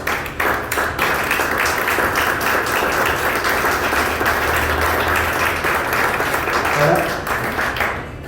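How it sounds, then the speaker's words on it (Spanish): A church congregation applauding together, a sustained dense burst of clapping that holds steady for several seconds before tapering off, with some voices mixed in. "Quiero un aplauso a Jesús"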